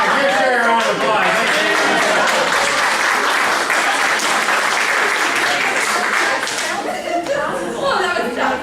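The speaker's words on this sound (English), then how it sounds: "give her a round of applause." Audience at a small improv comedy show applauding after a scene, loud, close clapping that sustains for several seconds before tapering off, with a voice or two breaking through near the end.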